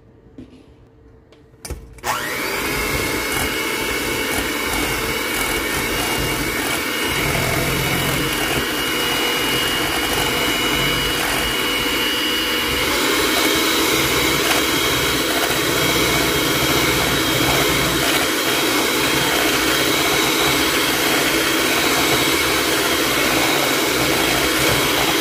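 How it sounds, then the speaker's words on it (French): Electric hand mixer whipping popover batter, a loud steady motor whir that kicks in after a short quiet start and runs continuously up close. "on y va avec la mixette électrique."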